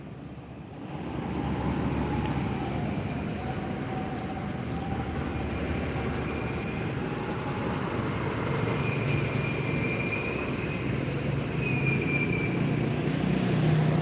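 Trucks pass in front of Palembang's bus terminal at kilometer 12 in South Sumatra, a steady, continuous roar of heavy road traffic that holds for the whole stretch.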